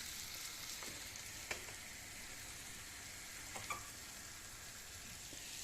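Mint sizzling in hot oil in a pan for zucchini soup, a steady faint frying hiss with a few soft pops and clicks scattered through.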